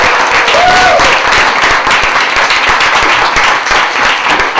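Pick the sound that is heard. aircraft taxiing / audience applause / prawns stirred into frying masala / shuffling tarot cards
audience applause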